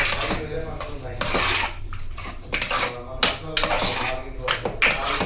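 A spoon scrapes and clatters against a pot while food is mixed with condensed milk, giving a busy, close run of metallic knocks and scrapes with brief pauses. A voice may be faintly present underneath.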